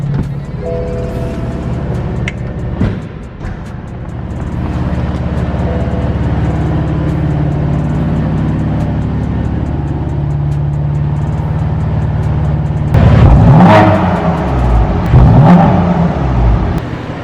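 A BMW M4 engine rumbling steadily in neutral, close and loud, then blipped in a couple of sharp revs that rise and fall near the end.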